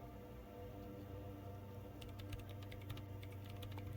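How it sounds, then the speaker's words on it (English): Keyboard typing in the video game Disco Elysium, a run of quick soft key clicks entering numbers over a low steady ambient hum. "now typing in some numbers"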